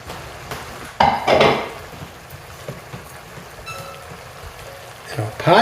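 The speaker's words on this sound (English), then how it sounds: "Our last step, we're going to add our spinach and our bucatini." Fresh spinach and bucatini pasta tumble into a pot of cream sauce with spinach and sun-dried tomatoes, giving a few clattering, rustling bursts near the start and end, with softer stirring noise between.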